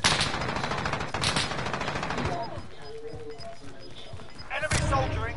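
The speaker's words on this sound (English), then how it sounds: "Assault rifle." Bursts of assault rifle fire in Call of Duty Warzone's Gulag, a dense rattling volley that stops, then a quieter stretch with a person talking, then a short renewed burst near the end.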